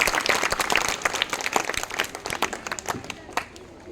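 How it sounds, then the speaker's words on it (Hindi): An audience in a hall breaks into sustained, dense applause to welcome a speaker at a Kargil Vijay Diwas school event, with voices heard through the clapping before it thins out. "आप जोरदार तालियों से उनका स्वागत"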